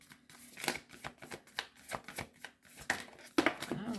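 Tarot cards are shuffled by hand in a quick run of soft riffling slaps and flutters, close and fairly quiet, with little or no talk.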